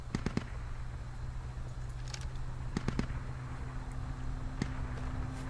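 Scattered distant gunshots crack across a battlefield in the military shooter Squad, a few sharp isolated reports spaced irregularly over a low ambient rumble.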